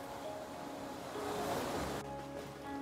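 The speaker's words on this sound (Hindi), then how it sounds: "पानी का बहाव का यहाँ पे ऐसे ही है भाई" A fast-flowing mountain river in Himachal rushes in a loud, continuous roar of churning water, steady throughout with no voices.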